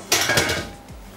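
A metal tray is moved off a kitchen counter with a short cluster of clattering knocks and rattles up close, loud at first and then fading into a soft thud.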